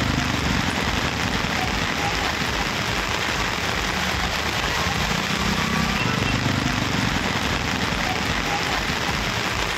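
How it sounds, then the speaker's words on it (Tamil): Heavy rain pouring down during a thunderstorm in Tamil Nadu, a dense, steady hiss of downpour lasting throughout at constant loudness, with faint low rumbling underneath and no clear talk. "ஒரு மணி நேரத்திற்கு மேலாக மழை பெய்தது"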